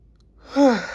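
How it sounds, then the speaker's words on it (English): A single close, breathy yawn rising into a voiced, falling tone that lasts about half a second after a moment of near silence. "I was suppressing that yawn the whole 6 minutes I've been recording."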